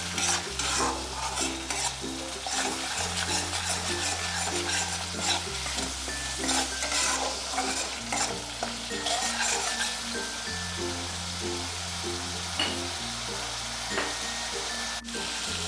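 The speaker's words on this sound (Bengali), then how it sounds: "ভালো করে কষিয়ে নিচ্ছি।" Spice masala for a giant prawn malai curry is stirred and sautéed in hot oil, a continuous close sizzle with scraping spoon strokes, while soft background music plays underneath.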